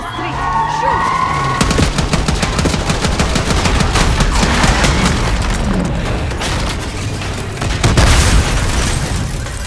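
Gunfire aimed at a limo on a street: a loud, dense barrage of shots and booms runs continuously with a few heavier bursts, close and intense throughout.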